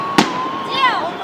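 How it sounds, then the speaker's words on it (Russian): One sharp firework bang from a city day salute cracks out near, followed by a fading whistling tail, with a voice speaking faintly in the background. "Ни один фейерверк не сравнится с салютом."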